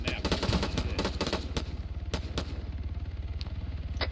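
Rapid automatic gunfire from a video game crackles in quick bursts of repeated shots, then settles into a steady rattling stream, fairly faint in the mix.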